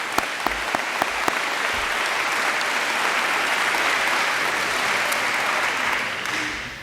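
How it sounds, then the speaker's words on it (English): A large audience at a school sports recognition ceremony bursts into loud, sustained applause after a few sharp opening claps, then it trails off at the end. "Give yourselves a round of applause."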